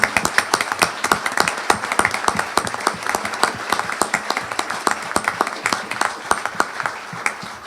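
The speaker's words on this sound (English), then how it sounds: "Let's give them a round of applause." A crowd at a Colorado election review event applauds with dense, sustained clapping, sharp hand claps overlapping steadily for several seconds.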